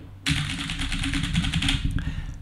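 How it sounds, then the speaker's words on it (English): Fast, steady clicking of keys typed on a keyboard for about two seconds, close by, with no talking. "and a keyboard"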